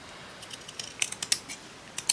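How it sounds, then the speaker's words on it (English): Scissors snip through a piece of lace in a quick series of crisp, close cuts, several clustered together and then a final snip, with no talking. "I'm going to cut this piece off"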